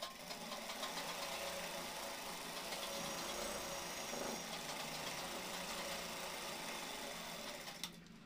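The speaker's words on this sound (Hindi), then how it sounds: "इसको हम डबल सिलाई मार देते हैं एक प्लेजर से।" A sewing machine runs continuously, double-stitching pure cotton women's half-pant shorts with a steady, fast mechanical whir and rattle at moderate loudness, with no talking, stopping just before the end.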